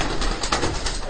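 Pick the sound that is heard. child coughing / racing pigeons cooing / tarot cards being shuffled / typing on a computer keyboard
racing pigeons cooing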